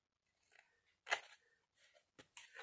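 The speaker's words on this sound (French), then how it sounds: "Et là, je coupe tout droit." Scissors cut straight across paper, a few short crisp snips with pauses between them, close and fairly quiet.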